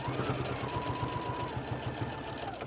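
Sewing machine running steadily while stitching a drawstring Santa bag, a close, continuous rapid mechanical whir with a fast even needle rhythm and no talking.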